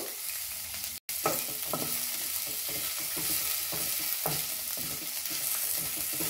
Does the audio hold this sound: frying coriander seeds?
yes